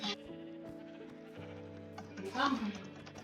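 Sheep bleating in the video game Minecraft during a survival session, a clear, nasal bleat rising near the end over game background music, close and moderately loud.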